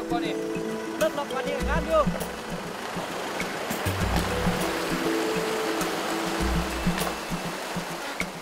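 A swollen mountain river rushes by in a steady, broad roar of flowing water. Low rumbling swells come and go, and a voice speaks over it.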